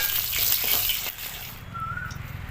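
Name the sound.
fried live koi fish lifted out of sizzling oil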